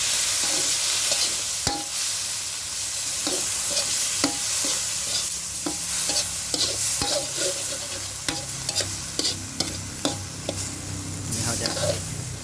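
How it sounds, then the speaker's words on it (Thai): A small amount of water in a pan for a Thai roasted frog dish comes to a boil with a steady bubbling hiss, broken by sharp utensil clicks and taps against the pan throughout. "ตอนนี้เริ่มเดือดแล้วผม"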